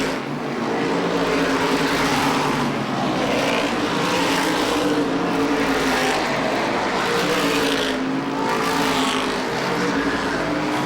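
Modified race cars at Lee USA Speedway roar in a continuous, loud engine drone, the pack's revving swelling and fading slightly as cars sweep past, with no other sounds standing out.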